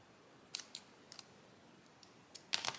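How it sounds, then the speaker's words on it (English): Scissors snipping a paper flower sticker in half, several sharp, close cuts spaced irregularly across a quiet background. "So I think I'm going to cut this in half."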